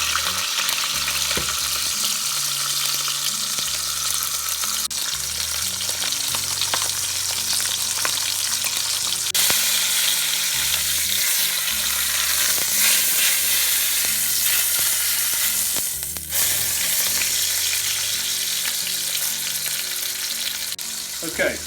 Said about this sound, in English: We're going to continue to move this meat around until all sides are browned like that.